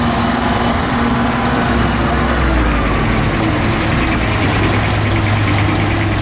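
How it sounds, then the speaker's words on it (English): A Commer three-stroke diesel truck engine on a historic commercial vehicle run, loud and close, with a steady throbbing low rumble that holds and shifts slightly as the lorry pulls away. "there's another very distinctive sound of that comma three-stroke diesel engine"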